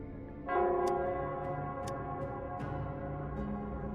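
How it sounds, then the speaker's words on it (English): The Nell Squares bell in the video game Wuthering Waves strikes once with a resonant clang, its ringing hum sustaining and slowly decaying over faint ticking, no voices. "it's the Nell Squares bell."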